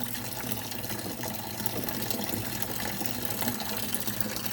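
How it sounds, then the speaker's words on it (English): Water pump rated at about 5 quarts per minute moving water during an aquarium water change, giving a steady, continuous gush and rush of flowing liquid at close range with no talk. "The pump says it moves 5 liters per minute"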